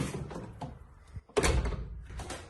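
A cabin door in Poland, fitted with smoked glass, shuts with one loud, close thunk midway, framed by softer bumps and handling rustles before and after.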